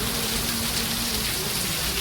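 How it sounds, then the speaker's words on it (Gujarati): Heavy monsoon rain pours down in Mudetha, Gujarat, a dense, steady roar of drops hitting surfaces without letup, close and loud throughout. "જોરદાર વરસાદ."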